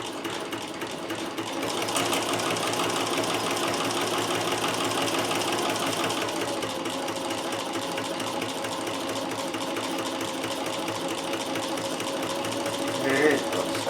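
Sewing machine stitching a fabric tube on a small stitch length, a fast even mechanical whirring rattle that starts after a brief pause and runs steadily to the end, close and fairly loud.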